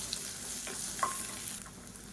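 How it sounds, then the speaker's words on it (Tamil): Onion and green chillies sautéing in a pan with a little tamarind for mint chutney, a soft steady frying hiss with faint stirring scrapes throughout, no voices. "வெங்காயம் பச்சை மிளகா நல்லா வதங்கிடுச்சு"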